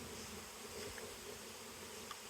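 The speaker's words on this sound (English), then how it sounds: "Bees, a super organism." Honey bee swarm clustered together, giving a dense, continuous buzzing drone that stays steady and close throughout with no voices.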